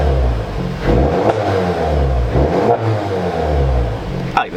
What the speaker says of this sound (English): Give her a couple of revs here.